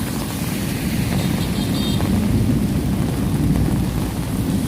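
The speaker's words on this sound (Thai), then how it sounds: "ฟ้าร้อง" Thunder during a summer storm over a city street by a bus stop: a loud, continuous low rumble rolls steadily throughout, with a faint hiss above it.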